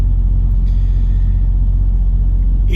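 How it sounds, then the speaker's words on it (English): Loud, steady low hum and rumble from a truck's refrigerated trailer unit, with no break across the whole stretch and no voices. "Reefer just kicked on, so you're probably going to hear a little hum."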